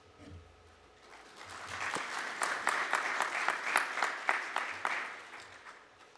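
A conference audience applauds after the Governor's speech at an economic recovery event in Namibia, a moderate round of clapping that swells and holds steady for several seconds before easing off.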